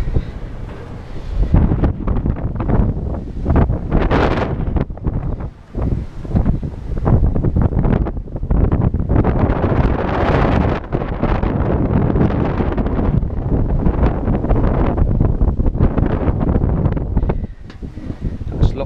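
Loud, gusty wind buffets the microphone throughout at a historic water tower, rumbling and roaring in uneven surges with no clear pauses.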